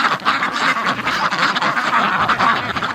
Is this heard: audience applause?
no